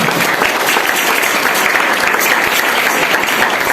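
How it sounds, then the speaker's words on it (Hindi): Church congregation claps loudly and continuously in a dense, steady burst of applause throughout, with no voices standing out. "ऊपर करें इस कलाम के लिए जोरदार तालियां।"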